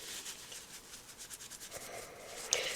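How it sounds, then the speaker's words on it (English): Pigment is rubbed into a resin zodiac mould, producing a faint, steady dry rubbing with soft rhythmic strokes close by. "I was just relying on rubbing it across. So rub it in."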